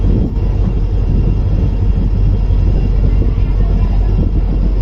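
A passenger special train, number 06920 running from Bagalkot to Hubballi, rolls along after leaving Hole Alur. Its deep, loud rumble and rattle stay continuous and close, as heard from on board.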